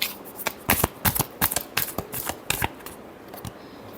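Tarot cards are shuffled by hand in a rapid series of crisp riffling bursts and flicks, close and fairly loud, tapering off to a few last snaps with no talking.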